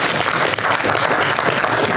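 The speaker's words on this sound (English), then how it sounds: "let's give them a round of applause" Steady applause from a panel discussion audience fills the space, a dense, even patter of many hands clapping without a break.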